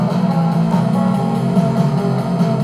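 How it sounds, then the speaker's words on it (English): A rock song's rhythm guitar plays back through an amp-stack effect, giving a bassier, full and loud strummed tone that holds steady with no pauses. "I like adding a stack to it. It makes it sound a little more bassy."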